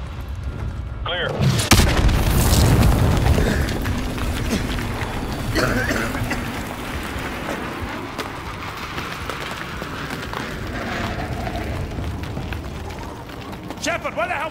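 Naval artillery shells pound the area in Call of Duty Modern Warfare 2 Remastered, with a sharp heavy blast followed by rumbling booms and debris under continuous battle noise, while voices can be heard shouting in the chaos.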